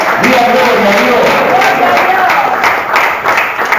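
A church congregation claps together in a steady, dense patter that fills the space. Voices carry through the applause, which continues with little letup.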